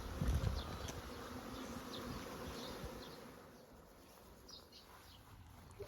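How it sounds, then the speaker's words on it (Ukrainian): A honey bee swarm in a village settles on a branch and moves into a box, a dense continuous buzzing drone of many bees at fairly close range, fading slightly toward the end, with faint birdsong around it. "Наші бджоли вже сіли на гілку і поступово почали переміщуватись у коробку."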